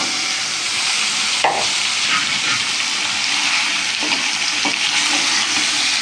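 Onions fry in a frying pan as masala is tipped in, giving a dense, continuous hiss of sizzling oil broken by a few faint stirring knocks, close and steady throughout.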